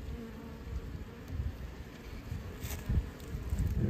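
Honey bees buzz around a hive during winter feeding with candy, a steady soft hum with occasional nearer passes, faint and continuous and without talk.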